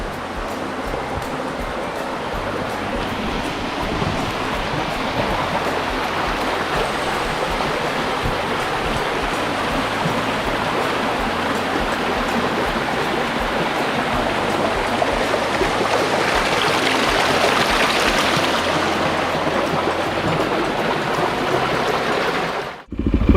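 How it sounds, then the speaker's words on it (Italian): Steady rushing of stream water flowing beneath a small footbridge in the Lanaittu valley, Sardinia, near the Su Gologone spring; a continuous, close broadband wash with no talking, ending abruptly. "il rumore dell'acqua."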